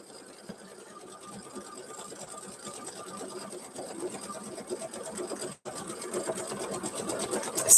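An embroidery machine stitches out a design with a steady, fast mechanical whir and needle patter, quiet at first and building slightly louder, with a brief dropout near the end.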